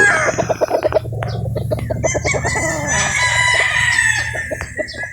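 A rooster among show-quality gamefowl crows and clucks close by, the calls layered over a steady low hum and other fowl noises throughout.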